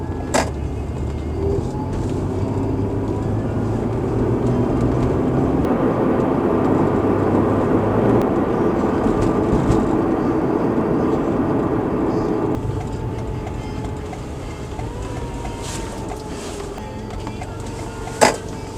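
Dash cam recording from a 1991 Honda NSX driving on roads in Japan, with a steady, loud broadband engine and road roar throughout that eases off toward the end.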